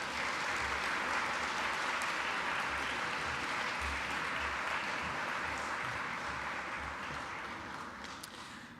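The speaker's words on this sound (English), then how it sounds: "Round of applause, please, ladies and gentlemen." Audience at a student leader and peer mentor appreciation ceremony gives steady applause, a continuous dense roar of many hands in a hall that slowly tapers at the end.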